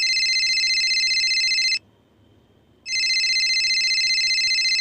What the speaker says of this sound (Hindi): मित्सो के पापा का फ़ोन फिर से बजता है।